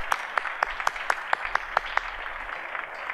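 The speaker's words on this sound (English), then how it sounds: "round of applause." Audience at a 2017 high school sports awards ceremony applauding coaches and programs: a modest round of clapping with a few sharp, distinct claps standing out rhythmically over a softer room wash, fading toward the end.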